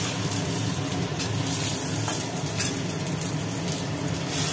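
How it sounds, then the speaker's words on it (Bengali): Fried potatoes with whole cumin seeds sizzling in a pan, making a steady frying hiss with light stirring scrapes close by. "ওর ভেতরে ওই ভাজা আলুগুলোর ভেতরেই একটু জিরে দিয়ে দিল"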